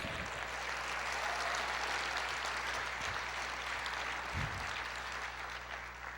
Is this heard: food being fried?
no